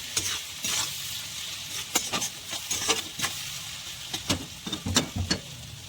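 Onions fry in oil with salt under a steady, soft sizzle, punctuated by sharp, repeated scrapes and clinks of a spatula stirring against the pan. The sound is close, with no talk.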